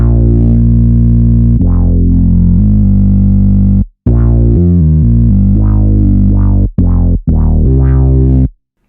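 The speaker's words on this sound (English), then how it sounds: "the bass synth sounds like this." Heavily processed analog bass synth, run through two limiters (one sidechained), gain boost and two EQs, plays a loud, dense bass line with repeated filter swells and short choppy gaps, no voices.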